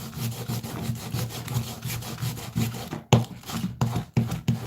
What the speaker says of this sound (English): Let me just go ahead and rub some wax on there